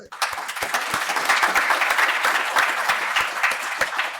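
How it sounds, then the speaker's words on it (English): An audience at a legal services forum on disaster legal services gives a round of applause for the programs. The clapping swells quickly and stays loud and continuous to the end. "we should recognize them with a round of applause"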